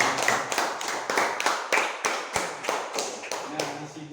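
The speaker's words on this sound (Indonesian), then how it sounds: "Tepuk tangan buat kelas 2" A class of young pupils clapping in a classroom, a quick run of about ten rhythmic claps fairly close and clear, with a voice briefly audible near the end.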